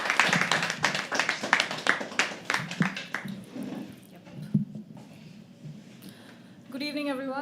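An audience claps at a poetry open mic as a performer walks on stage: brisk, dense clapping that thins out after a few seconds, giving way to scattered murmurs and a faint voice.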